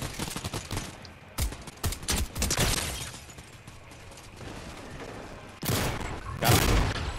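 Video game gunfire crackles in sharp bursts and rapid volleys, some loud and close, others farther off, with quieter gaps between clusters of shots.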